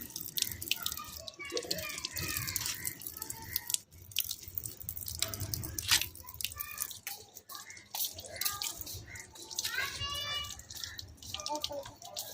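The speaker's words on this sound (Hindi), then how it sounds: "मैं इनको साफ़ पानी से निखार रही हूँ" Utensils and containers are rinsed with clean water during a village kitchen deep clean, giving steady splashing and dripping with clinks close by throughout, while a voice talks over it.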